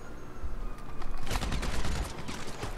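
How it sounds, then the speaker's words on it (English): Dense, loud bursts of rapid gunfire from enemies shooting at the player in GTA V Online. The shots start after a short quieter lead-in and continue as overlapping volleys to the end, with no talk. "I got two of them shooting at me."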